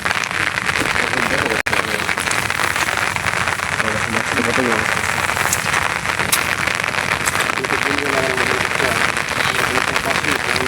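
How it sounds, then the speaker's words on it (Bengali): Heavy rain pours steadily on a rainy day by the sea in a Bangladeshi village during shrimp fishing with bamboo traps, a loud continuous hiss with faint voices talking underneath. "দেখেন বৃষ্টি পড়তেছে"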